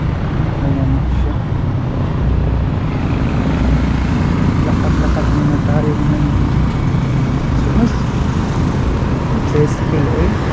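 Steady street traffic with a motorized tricycle passing nearby, its engine rumble continuous under a constant roadside din; voices murmur faintly in the background.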